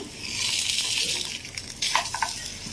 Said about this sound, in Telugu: ఇవి కొంచెం ఫ్రై అయిన తర్వాత వెనక్కి తిప్పుదాము